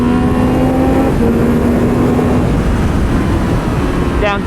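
A 2022 Triumph Speed Triple 1200 RR motorcycle on a race track, its engine roaring loud and close under wind noise, then dropping two gears with quick rising throttle blips near the end.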